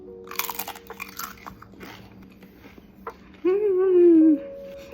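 Homemade Asian beef chips crunch as they are bitten and chewed, a few crisp, close snaps with rustling, followed by a short voiced sound.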